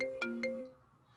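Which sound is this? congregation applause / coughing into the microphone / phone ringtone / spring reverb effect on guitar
phone ringtone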